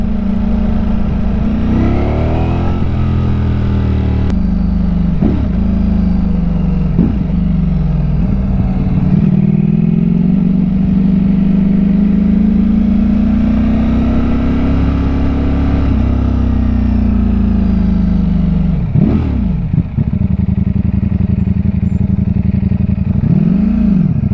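A Ducati Streetfighter V4S motorcycle on a test ride, its engine loud and close throughout, droning steadily with pitch rising and falling through gear changes and a few sharp shifts.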